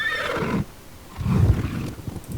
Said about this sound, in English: I'm going to put a check mark there so it can sound like a normal horse.